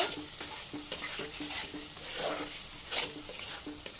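Fried eggs tossed and stirred in a pan with spices for a quick Bengali egg korma, a steady sizzle under repeated scraping strokes of a spatula, close and moderate in level, with no talking.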